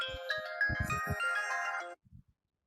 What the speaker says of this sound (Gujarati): મારે બૈરાનો ફોન આવ્યો